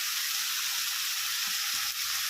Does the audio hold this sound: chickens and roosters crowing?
no